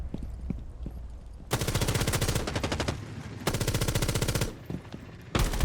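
Rapid automatic gunfire in a tactical shooter match, two long loud bursts of steady rattling fire plus a short final burst, with quieter scuffling between volleys and no talk.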